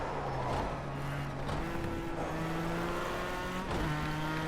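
A race car engine in a racing video game revs and drops pitch in stepped shifts, with sharp rev changes and tire noise, loud and continuous, with no voices.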